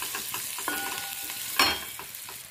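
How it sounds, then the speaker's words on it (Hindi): Onions and spices, turmeric, red chilli and coriander powder, frying in a pan for South Indian rasam, with a steady close sizzle and occasional stirring scrapes, no talking. "धनिया पाउडर डालकर इनको भून लेंगे 1 से 2 मिनट तक।"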